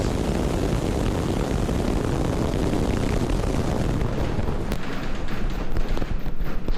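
SpaceX Starship V3 megarocket lifting off, a loud, continuous broadband roar of rocket engines that swells and rumbles for several seconds with no talk over it.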